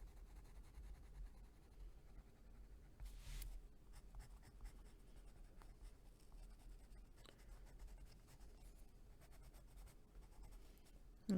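Colored pencils scratch and shade steadily across paper, laying in blue-gray shadow lines with soft, continuous close-up strokes and small taps.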